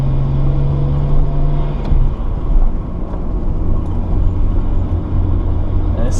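A Nissan Skyline R32 GTS-t with an RB20 engine and an exhaust running only a resonator and no catalytic converter gives a loud, steady low drone. Its pitch drops noticeably about a third of the way through, then settles into an even rumble, with no talking.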